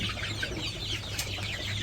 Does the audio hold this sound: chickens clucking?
yes